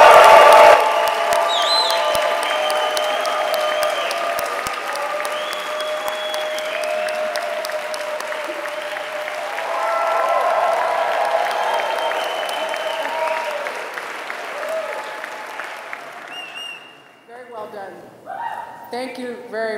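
A large crowd claps and cheers loudly, with whoops rising and falling for over fifteen seconds before the applause fades and a voice begins speaking.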